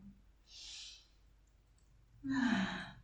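A deep, audible exhale during a Hatha yoga flow, breathy and soft, heard once briefly early on and again more strongly near the end, close and alone without talk.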